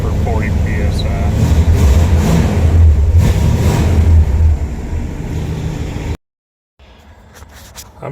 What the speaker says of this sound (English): we're just running it to charge the battery on the old Star Chief Executive.